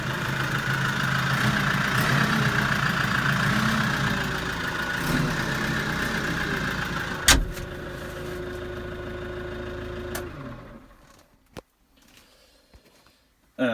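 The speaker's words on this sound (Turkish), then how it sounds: "Şöyle bir sesini duyurup videomuza veda edeceğiz inşallah" A Case 120X CRD tractor engine idles with a steady low rumble for several seconds, then a click and the engine winds down into near silence with a few small knocks.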